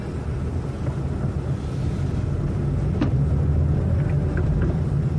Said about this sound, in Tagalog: susulungin na naman natin yung traffic.